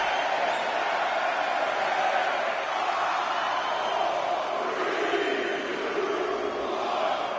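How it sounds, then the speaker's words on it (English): A dense crowd roars steadily throughout a wrestling match in the WWE 2K20 video game, a constant wash of cheering with no individual voices standing out. "Listen to this crowd count the next one in."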